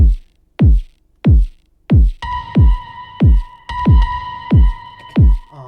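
A kick drum pattern built from a random sample plays alone: steady booming kicks with long pitch-dropping tails, joined partway by a sustained tonal hum and bright transients on the later beats.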